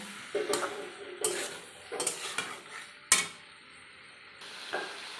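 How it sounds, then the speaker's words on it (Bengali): A spatula stirs and sautés cucumber in a pan for a Bengali-style curry, giving a series of separate scraping, clattering bursts with short pauses between them and a faint sizzle underneath. "এবার আমি শশাটাকে দিয়ে দিচ্ছি এবার আমি একটু কষাবো"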